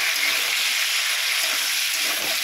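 Fried ridge gourd pieces stir-fry in a pan for a vegetarian curry with a loud, continuous, even hiss of sizzling oil and no voices.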